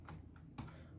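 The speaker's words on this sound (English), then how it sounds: "I'm playing on a shitty keyboard" Keys clack on a cheap computer keyboard, a few quiet, close taps spread unevenly across a faint background.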